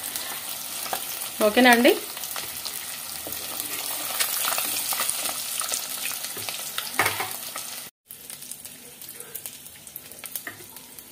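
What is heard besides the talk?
eggs and potatoes frying in oil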